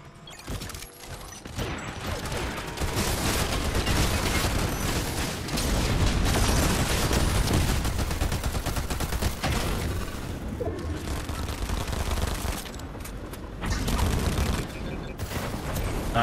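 Dense, continuous gunfire from a Fortnite match: rapid overlapping shots and bursts fill the whole stretch with loud, busy battle noise and no pauses.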